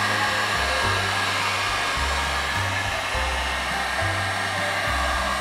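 A hair dryer blows steadily on a very wet pottery plate, a loud continuous whoosh with a low hum that wavers slightly in pitch, running alone throughout.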